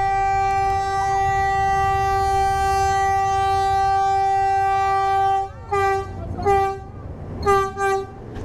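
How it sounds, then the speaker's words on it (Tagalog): A train in Bulacan sounds a long, loud, sustained horn over a steady rumble, then gives several shorter horn blasts as it passes close by, with no talking. "May tren mga lods."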